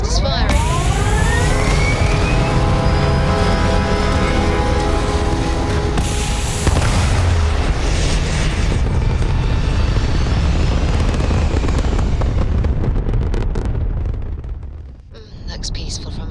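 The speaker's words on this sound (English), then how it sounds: "All thrusters firing." Spaceship thrusters fire in the video game Starfield, a loud, sustained, close roar that swells with rumbling bursts and whooshing sweeps before dipping briefly near the end, with a voice mixed in underneath.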